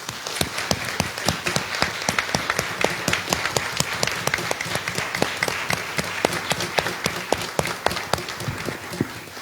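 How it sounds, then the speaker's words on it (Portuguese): Baptist church congregation, standing, applauds in steady sustained clapping with crisp individual claps standing out, filling the hall evenly for nearly ten seconds without talk. "Fique de pé e vamos aplaudir"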